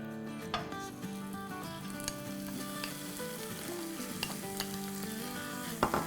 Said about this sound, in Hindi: अब हम अपने पैन में 2 टेबलस्पून के आसपास ऑयल डाल देते हैं और अब हम इसमें डालेंगे अपनी चिकन ब्रेस्ट